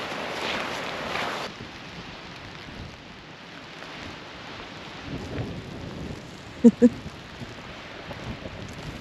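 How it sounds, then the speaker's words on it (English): Steady rain and gusting wind hiss outdoors near a glacier in Alaska, fairly close, with a couple of brief knocks partway through. "It's rainy and wet and windy and cold"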